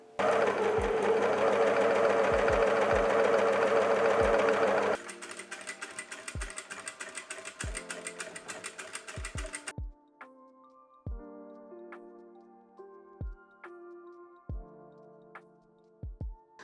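A sewing machine stitches the hem of shorts in a fast, steady run, then slows to a few separate stitches with faint clicks and ticks between them, and no one speaks.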